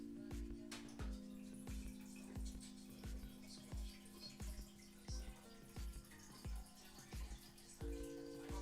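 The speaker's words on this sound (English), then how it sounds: "It probably sounded like I was peeing because I have a water machine." A water dispenser machine pours water into a glass, a faint, steady trickle running under a repeating, rhythmic series of clicks and thumps, with a brief change in tone near the end.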